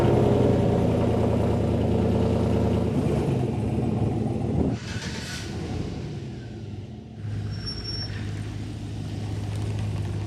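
A Chevrolet Silverado's engine idles and rumbles steadily close by as the truck is shuffled around, a continuous low mechanical drone that dips briefly midway before resuming.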